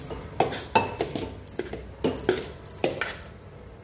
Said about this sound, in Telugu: అందుకే నేను కలుపుకుంటున్నాను. ఇలా కలుపుకోవాలి.